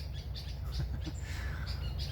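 Short bird calls sound over a steady low rumble at a birding site in Namibia, with a turaco present, the chirps faint and scattered across the two seconds.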